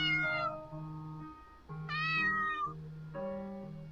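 A cat meows repeatedly in the video game Chloe's Requiem, several drawn-out, tonal mews in sequence with one higher, rising cry in the middle, clear and close with no talking.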